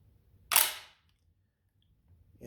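A single sharp metallic clack from the bolt of a MAC 1014 semi-automatic shotgun, a Turkish Benelli M4 clone, being locked back, loud and close, then quickly fading to quiet.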